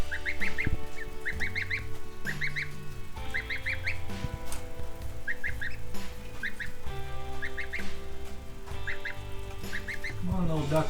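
Geese and ducks at water on a rainy day, with repeated honking calls in short bursts across the whole stretch, loud and close over continuous rain and background noise.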